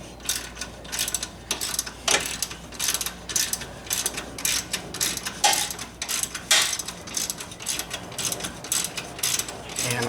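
Ratchet wrench tightening a larger bolt on a Nissan Rogue tie rod, repeated close clicking bursts of the pawl in uneven strokes with short pauses, some metallic clinks, no talk.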